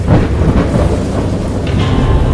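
Loud, close thunderstorm from the Lovecraft-inspired game Dagon: a deep rolling thunder rumble over steady heavy rain hiss, sustained without pause.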